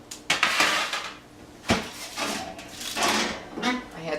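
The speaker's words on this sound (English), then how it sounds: "We're going to shut the oven off and pull them out." Metal baking pans of kale chips clank and scrape as they are pulled from a kitchen oven, with several sharp knocks and rattles, near and fairly loud.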